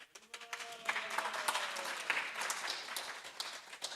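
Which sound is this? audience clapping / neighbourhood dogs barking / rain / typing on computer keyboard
audience clapping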